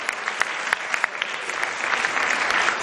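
Audience applause for a senator at a Save the Children centenary celebration in Nigeria, a steady wash of clapping from a crowd with sharper individual claps standing out, sustained and fairly close for the whole stretch.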